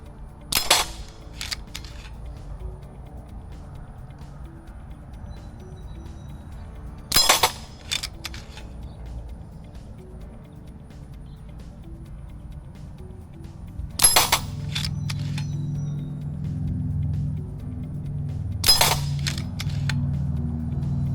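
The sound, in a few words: pump action air rifle shots hitting steel silhouette targets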